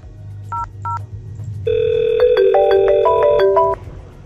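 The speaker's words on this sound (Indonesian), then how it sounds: "misal saya telepon lagi, manajer telepon supervisor produksi" A VoIP phone rings during a test call between two virtual FreePBX servers, as a manager calls a production supervisor: two short electronic beeps, then a loud multi-tone ringtone melody for about two seconds, with no talking.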